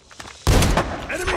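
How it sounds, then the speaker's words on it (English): A flashbang grenade goes off in a video game, a sudden loud burst after a moment of quiet with a shrill ringing tail. A voice calls out briefly just before the blast. "Targets in sight. Flashbang."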